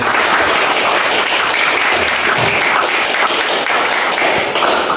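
A high school class claps for a student group during a coding lesson, a loud continuous patter of many hands close by, with no talking over it.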